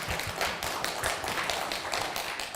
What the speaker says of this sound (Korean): 여러분 자신을 위해서 박수 한번 쳐주세요